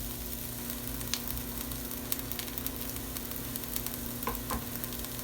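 Chopped onion and green pepper frying in a pan for a sweet potato hash, a steady soft sizzle with occasional light crackles and stirring clicks over a low hum.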